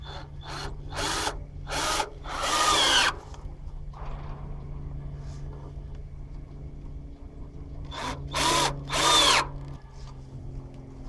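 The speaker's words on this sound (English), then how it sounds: "Drill." A power drill whirs in short bursts, several quick ones building to a longer run, then a pause before another cluster of bursts, over a steady low hum.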